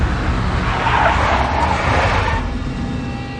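In the video game Max Payne, a big black Mercedes skids with a loud, close tire squeal over a rumbling engine, the screech fading out after a couple of seconds.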